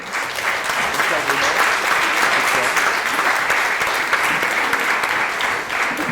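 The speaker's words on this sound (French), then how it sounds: "je pense qu'on peut applaudir notre intervenant" An audience at an inaugural session on heritage and digital transition applauds a speaker, with loud, sustained, dense clapping that stays steady for several seconds, with possible faint voices underneath.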